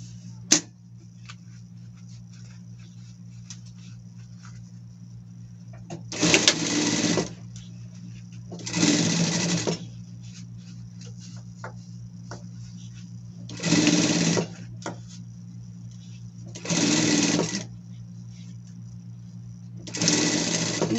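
A sewing machine runs a three-point zigzag stitch on fabric in five separate bursts, each a second or so of steady mechanical whirring, with quiet pauses between them over a low constant hum.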